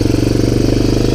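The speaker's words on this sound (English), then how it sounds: "That popping out the exhaust, not a big surprise." Honda TRX250 ATV, a barn find revived for its first ride, runs close by with a loud, steady rhythmic engine chug and exhaust pulses.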